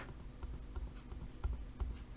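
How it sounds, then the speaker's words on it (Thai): A silent-type computer mouse clicks repeatedly at a desk, captured by a FIFINE K669 USB microphone: soft, faint, irregular ticks over low room hiss. "เลื่อนเมาส์คลิกไปคลิกมา คลิกไปคลิกมา"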